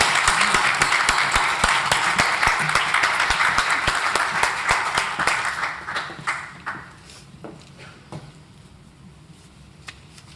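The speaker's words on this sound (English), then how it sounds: "round of applause" An awards ceremony audience breaks into loud, dense applause that holds for several seconds, then thins into scattered claps and fades out.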